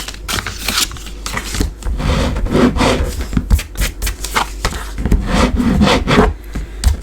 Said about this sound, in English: Just burnish these now, both sides, because I think it helps keep the card closed.